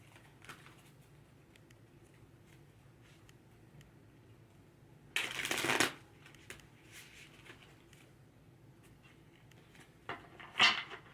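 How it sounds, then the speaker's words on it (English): Tarot cards being shuffled by hand, two short crisp riffling bursts separated by quieter soft handling sounds in a calm indoor setting, close and fairly loud, with no talking. "I'm just taking time to shuffle here."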